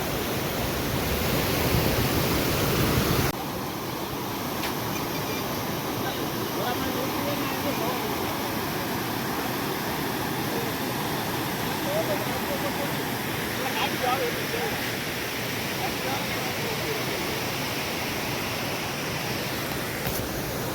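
A river rushes in a loud, continuous broadband roar close by, steady for the whole stretch, with people talking faintly underneath.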